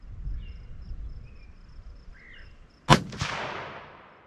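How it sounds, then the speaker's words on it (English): A single sharp rifle shot from a Ruger American Gen 2 in 6.5 Grendel at an outdoor range, loud and near, with a trailing echo, after a quiet stretch of insect chirps. "I'm gonna shoot at the bottom target again"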